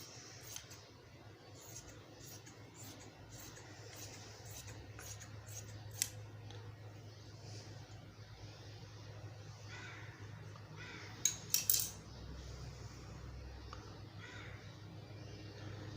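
Scissors snip through kurti fabric in a quiet room, giving short, faint, crisp cuts in a loose series, then a brief cluster of sharper snips toward the end over a low steady hum.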